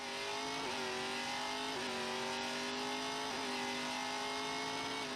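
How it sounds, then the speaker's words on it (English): Race car engine held at maximum revs, a loud sustained high-pitched drone with brief dips and recoveries in pitch, continuous and close with no voices. "He's just max revving his engine"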